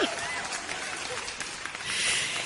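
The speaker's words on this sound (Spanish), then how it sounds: "Miren, esos aplausos buenísimos." An audience at a personal-growth speaking event applauds, a dense wash of clapping that swells toward the end, with talk mixed in underneath.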